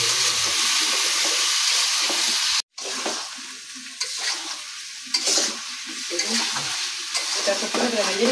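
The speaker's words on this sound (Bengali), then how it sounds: "এই যে পেঁয়াজ আর মাছের মাথা একসাথে ভাজা হয়ে গেছে, এখানে মশলা টসলাও ভাজা হয়ে গেছে" Fish head, onion and pumpkin fry with spices in a pan, giving a loud, close, continuous sizzle. It cuts out briefly, then returns with scraping stirs and bursts of crackling.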